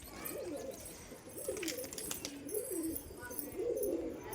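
Pigeons coo in a repeated rolling series over steady outdoor background noise, the soft throaty calls recurring several times at moderate distance with no talk.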